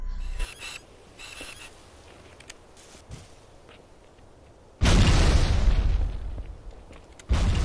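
A grenade in Halo 2 multiplayer goes off in a loud, close blast that breaks a quieter stretch of game ambience and faint footsteps, then a second burst hits near the end.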